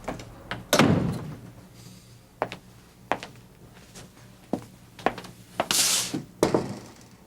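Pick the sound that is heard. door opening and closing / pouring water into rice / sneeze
door opening and closing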